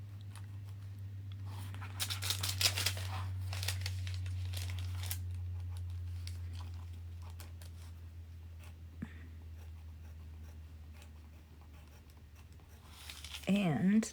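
Scissors cutting gold paper for an eagle craft, soft snipping and paper rustling in short bursts early on, close and quiet, under a low steady hum, with a louder crinkle near the end.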